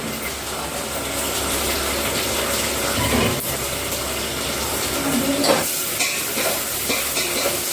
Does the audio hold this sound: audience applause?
no